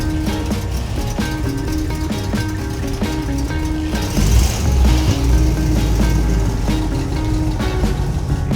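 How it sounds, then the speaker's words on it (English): A 1956 Buick Roadmaster convertible pulls out of a garage with the top down, its engine rumbling steadily and swelling louder partway through as it moves off, low and close. "why don't we lower this top down and you just drive it out of my garage"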